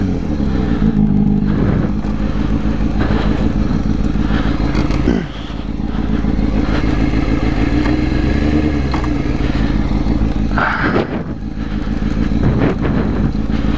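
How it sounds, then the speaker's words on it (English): A motorcycle engine running loud and close with rough, uneven clattering and a couple of brief dips in power as it falters and dies, with no talk. "The bike died on me."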